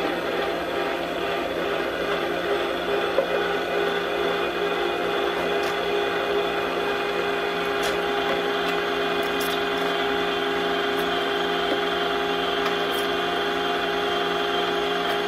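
A Weston tomato strainer and food mill runs its motor, a steady mechanical whine with a fixed tone and faint rattles, close and continuous with no talk.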